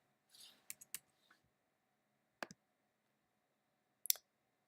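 Sharp, quiet mouse clicks on an on-screen button in a silent room: a quick cluster of several clicks, then a single click, then a final double click.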